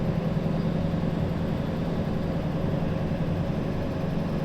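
A diesel locomotive engine in Derail Valley labours near wheel slip with a steady, dense, loud low roar that stays constant throughout, with no voices.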